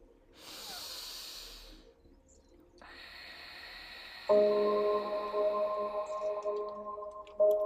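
During a yoga routine, a slow, airy breath is drawn softly and close, followed by quiet sustained tones that rise in level toward the end.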